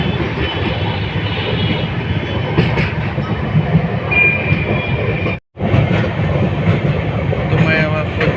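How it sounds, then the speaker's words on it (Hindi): A Janhit Express passenger train runs past Digha halt without stopping, a steady loud rumble of wheels and carriages with clattering rail joints, briefly cut by a dropout. "तो देख रहे हैं कि हमारी ट्रेन किस तरह दीघा हॉल्ट को स्किप किया।"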